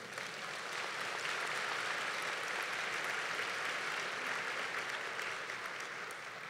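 Steady, dense clapping from an Episcopal diocesan council audience fills the whole stretch at an even, sustained level, with no voices standing out above it.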